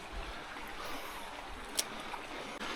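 Small clear trout creek flowing, a soft steady rush and trickle of water close by, quiet and continuous with a faint click partway through.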